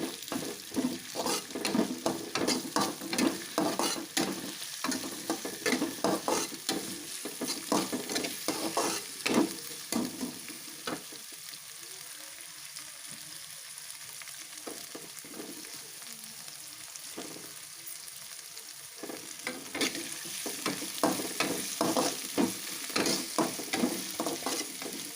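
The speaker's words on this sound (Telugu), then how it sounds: "కొంచెం ఫ్రై చేయాలి." Shredded cabbage being stir-fried for fried rice, with a steady sizzle and repeated scraping and clinking of a spoon against the pan, louder at the start and end and quieter in the middle.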